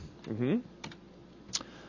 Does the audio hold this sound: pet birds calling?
no